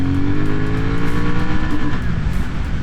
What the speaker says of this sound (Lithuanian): antras bėgis, gazas dugnas.